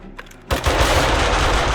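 A sudden burst of rapid, continuous gunfire in the video game 7 Days To Die erupts after a brief quiet moment, loud and dense, sustained to the end.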